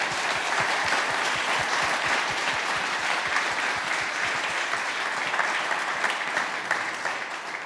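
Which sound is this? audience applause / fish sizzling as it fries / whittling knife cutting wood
audience applause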